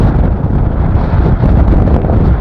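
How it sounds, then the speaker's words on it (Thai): Strong wind buffets the microphone outdoors near water, a loud, steady roar with gusty swells throughout and no voices. "ลมพัด"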